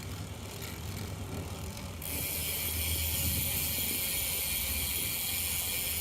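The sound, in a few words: bicycle pedaling, crank arms and new chain ring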